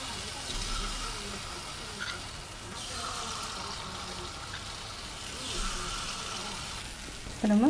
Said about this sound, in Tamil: இப்போ நம்ம டீப் ஃப்ரை பண்ணிக்கலாம்